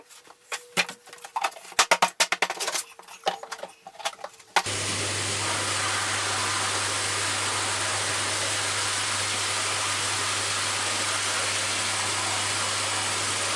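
An old Electrolux vacuum cleaner made in Sweden switches on after a few seconds of handling clatter, then runs with a steady, loud motor roar and airflow hiss.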